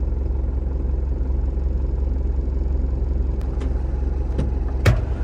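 A 2001 Isuzu Panther LS Turbo automatic idles in gear with a steady, close, low diesel rumble, broken near the end by a few faint clicks and a short knock.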